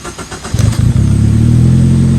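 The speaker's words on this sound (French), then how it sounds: "Et ici, on entend tout de suite le moteur GDI." A Morgan Plus 4 with a 2-litre GDI engine cranks and catches at about half a second, then settles into a steady, loud, close-up idle with a deep, even rumble.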